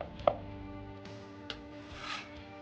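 A knife chops carrot and ginger finely on a board while cooking a crispy garland chrysanthemum dish, giving three sharp, separate strikes over a low, steady kitchen hum with no talk.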